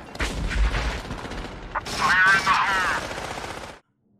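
Bursts of rapid gunfire crackle and boom amid dramatic Vietnam War film audio, with shouting voices mixed in, loud and chaotic before ending suddenly.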